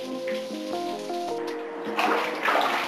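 Water running into a bathtub for a hot bath, a steady liquid pouring and splashing that grows fuller and louder toward the end, with a background tone present early on.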